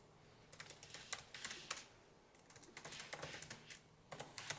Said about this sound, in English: Wow, that typing is super loud.